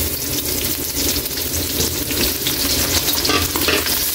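Onion and garlic sauté in a pot for pork dinuguan, a loud, dense, steady sizzle with light stirring, close by and with no talk.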